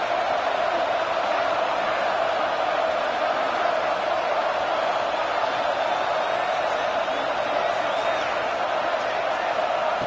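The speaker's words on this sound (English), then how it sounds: "The crowd is roaring, trying to help this defense on 4th down" A dense, steady roar from a stadium crowd rises behind the defense on fourth down late in a college football video game, swelling evenly throughout while a commentator talks over it.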